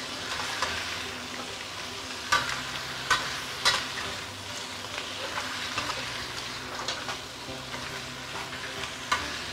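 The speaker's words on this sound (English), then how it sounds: "Then we give it a few stir." Kam Heong crab cooking with sugar in a hot pan: a busy sizzle with repeated scraping and clattering as it is stirred, several sharp utensil knocks against the pan, and no speech.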